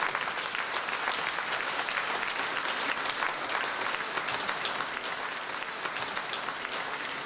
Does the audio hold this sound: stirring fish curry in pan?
no